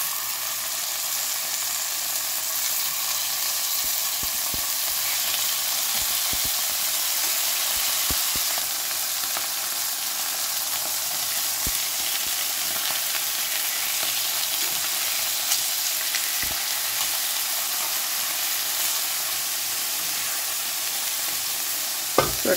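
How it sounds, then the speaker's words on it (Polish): Slices of beef round searing in a hot pan, a steady, close frying sizzle and hiss that runs without a break, with occasional small pops and crackles and no talking. "Zaczynamy obsmażać."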